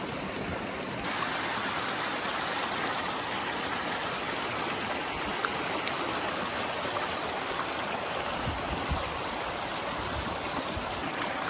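Steady rushing of a mountain stream tumbling down a steep-sided valley with meanders eating into its banks, a continuous close, broadband wash of water with no voices.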